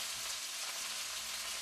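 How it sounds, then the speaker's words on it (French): Vegetables cooking in a single pot over an open fire, a steady, even hiss and sizzle throughout with no talking. "Indra, la mère, cuisine sur un foyer ouvert. Une seule casserole, un seul mets."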